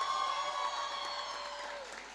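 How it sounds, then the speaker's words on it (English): Applause at a Model United Nations conference: a brief, moderate burst of clapping from a hall audience, steady and fading slightly, over a faint sustained tonal hum. "A huge round of applause."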